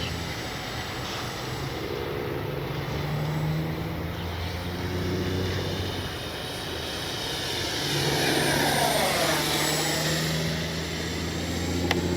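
An FlyFans L-39 Black Diamond 64mm electric ducted-fan model jet flying a morning sortie, its steady whine and rush rising and falling as it passes, with a louder sweep near the end and no talk.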